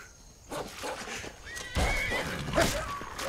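A horse in the video game Skyrim whinnies loudly with a rising squeal, up close, over muffled background game noise and a few hoof clops.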